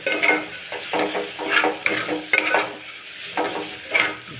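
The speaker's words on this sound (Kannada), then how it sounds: "ಚೆನ್ನಾಗಿ ಮಿಕ್ಸ್ ಮಾಡಬೇಕು" Upma mixture stirred in a pan, with repeated scraping strokes of a spoon in an uneven rhythm over a light sizzle, close up and with no talking.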